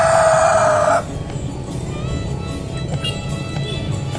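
Village chickens on a hillside farm, with a loud, clear rooster crow in the first second, then low rural background noise and scattered faint clucks.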